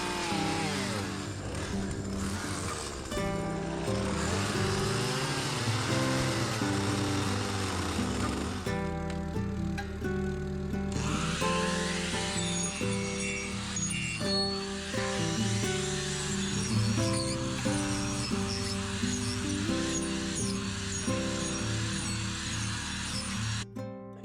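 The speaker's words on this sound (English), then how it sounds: "Using the angle grinder with a carbide blade, I can get these notches carved down to where they're literally precision tight" An angle grinder fitted with a carbide blade carves notches into logs, a continuous loud whining, chattering grind that shifts in pitch as the blade bites and eases, with no talking.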